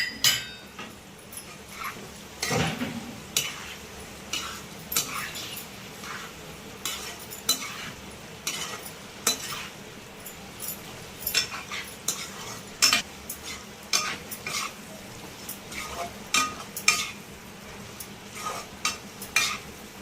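Ivy gourd fry cooks with chili powder while a spoon stirs through it in a pan, making repeated scraping clinks at an uneven rhythm over a low, steady sizzle, with no talking.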